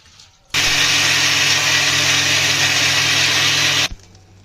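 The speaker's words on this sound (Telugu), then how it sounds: "ఇలా కొంచెం కొంచెం వేసుకొని మిక్సీ పట్టుకోవాలి." A kitchen mixer grinder whirs loudly and steadily for about three seconds as it grinds soaked rice and urad dal into dosa batter, starting and stopping abruptly, close with no talking.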